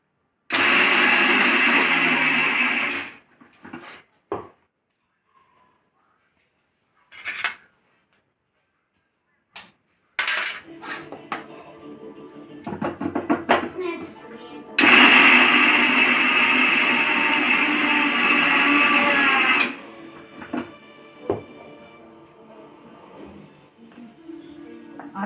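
A mixer grinder crushing peanuts and green chillies, loud whirring bursts in short pulses at the start, then choppy on-off runs, and a longer steady grind near the end, with no talking.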